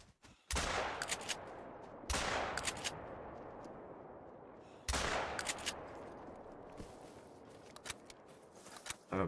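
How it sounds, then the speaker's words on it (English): Shotgun blasts in a hunting video game, three loud, sharp reports several seconds apart, each followed by a decaying echo and faint handling clicks between shots. "Pull out the fucking shotgun."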